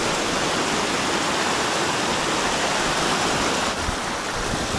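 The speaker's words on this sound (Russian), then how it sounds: "тут такая речуга, ручеек" Small mountain stream in Kabardino-Balkaria, Terskol area, rushing steadily and loudly close by, a dense continuous roar of flowing water with no voices.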